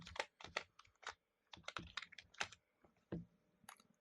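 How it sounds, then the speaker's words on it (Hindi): Quick bursts of keys clatter on a computer keyboard as a password is typed, irregular clusters of close, crisp taps with brief pauses between them, no voices. "सो पासवर्ड लिख देता हूं मैं"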